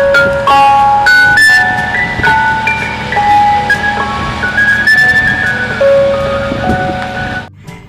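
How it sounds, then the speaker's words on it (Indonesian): A toy ice cream truck plays its bright electronic jingle, a loud, close, continuous tinkling melody of steady notes that cuts off abruptly near the end. "Yang ini ada mobil es krim."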